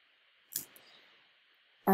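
Mouse clicks on a web page in an ad-library browser: one crisp click, then another about a second and a half later, both quiet and close against near silence.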